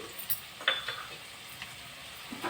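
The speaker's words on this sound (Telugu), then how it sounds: "వేసుకున్న తర్వాత చక్కగా ఇలా ఫ్రై చేసుకోవాలి" Bitter gourd fries in a pan with salt and curry leaves, giving a soft, continuous sizzle. A few light clicks of a spoon or spatula touch the pan during the short stretch, and no voice is heard.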